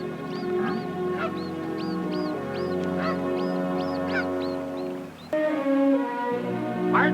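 A goose family honks in a steady run of repeated calls out in mountain wilderness, several birds overlapping near and loud, briefly breaking before a deeper honking resumes.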